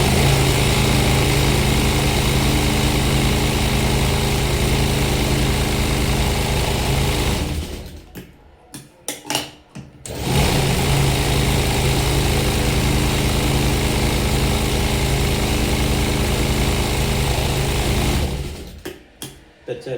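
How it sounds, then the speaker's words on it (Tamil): A sewing machine stitching blouse fabric runs in a loud, fast, steady whir for several seconds, pauses briefly, then runs again before stopping. "அடுத்து நான் 2 தையல் பக்கம் பக்கமாக போட்டுக்கிறேன்."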